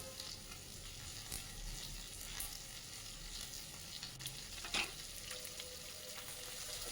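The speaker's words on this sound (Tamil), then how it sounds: "ஸோ அதை ஆயிலில் நம்ம வதக்கி எடுத்துக்கலாம்." Beans, potato, carrot and peas fry in hot oil for a vegetable curry, giving a steady close sizzle with a brief stir clatter near the middle and no voices.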